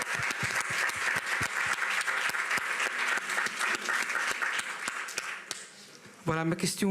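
Audience applause fills a Cannes film festival press conference room, dense steady clapping for several seconds that thins out, followed by a voice speaking up close at the end.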